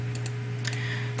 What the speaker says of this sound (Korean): 바로 키보드의 탭 키를 눌러야 하기 때문입니다